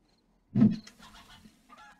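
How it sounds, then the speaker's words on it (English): A single short squawk from a chicken in the 7 Days to Die video game, close and fairly loud, followed by a softer trailing cluck, with nothing else around it. "I got the chicken."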